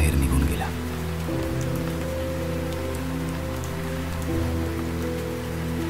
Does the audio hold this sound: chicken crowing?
no